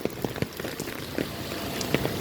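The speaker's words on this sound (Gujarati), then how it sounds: "વરસાદ ચાલુ થયો" Rain falls steadily on a village street and lanes, a dense hiss of drops with scattered sharper patters and splashes, heard alone without voices.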